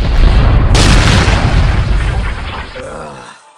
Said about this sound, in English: Right now, fire the cannon!